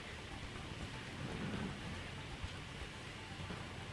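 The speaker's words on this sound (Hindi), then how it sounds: "दिल्ली एनसीआर में तेज हवाओं के साथ लगातार बारिश हो रही है" Heavy, steady rain driven by strong winds over Delhi NCR, a dense continuous roar with no voices.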